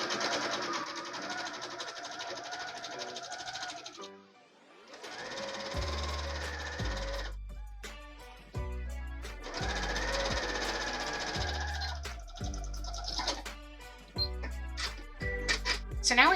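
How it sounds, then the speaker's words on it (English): Sewing machine stitching along the edge of a pillowcase in steady rapid runs, pausing and restarting several times with clicks and thumps between bursts, close and fairly quiet. "So I am going to sew this along the edge."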